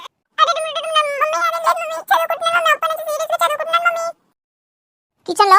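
A voice imitates a cat, giving a run of drawn-out, wavering meows, then a pause and one more short meow.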